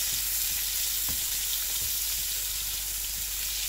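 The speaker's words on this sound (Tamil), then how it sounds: "தவாவில் பட்டர் போட்டு அதில் சிக்கன் போட்டு நம்ம இப்போது ஃப்ரை பண்ணுறோம்" Pieces of tandoori chicken fry in butter on a tawa, giving a dense, steady sizzle that stays loud and close throughout, with a few faint clicks.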